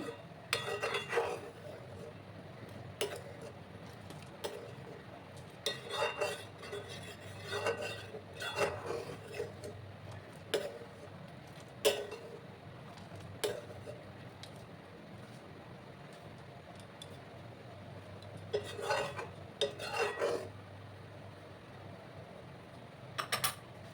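A spoon scrapes thickened milk skin off the sides of a pan of simmering payesh, giving faint, intermittent metallic scrapes and clinks in short bursts over a quiet background hum.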